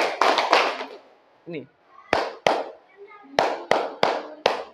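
A group claps in a counted rhythm in a classroom: several sharp, close claps come in small bursts separated by short pauses. An adult voice speaks briefly between the claps.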